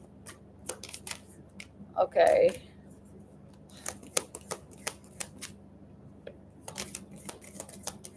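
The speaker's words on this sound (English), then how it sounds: "They are a little difficult to shuffle because they are a lot bigger in size and thicker." Large, thick oracle cards are shuffled by hand in quick bursts of dry flapping and riffling, fairly close, with a brief spoken word in between.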